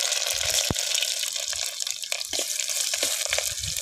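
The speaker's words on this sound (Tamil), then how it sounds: "பூண்டு நல்லா வதங்கட்டும்." Garlic sautéing in a pan after fenugreek seeds, for a manathakkali tamarind kuzhambu, with a continuous close hiss of frying and a few sharp clicks and pops.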